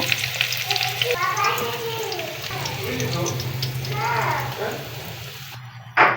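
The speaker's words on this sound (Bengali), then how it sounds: "এদিকে আমার কাঁঠালটা লাল লাল করে ভাজা হয়ে গেছে এখন তুলে নেব" Pieces of jackfruit fry in hot oil in a pan, giving a steady sizzle throughout, close by, with a person speaking over it and a brief clatter near the end.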